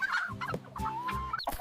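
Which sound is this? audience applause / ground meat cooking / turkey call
turkey call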